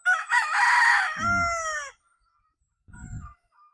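A Golden Boy Sweater gamefowl rooster gives one loud, close crow, then a short pause and a brief burst of low clucking.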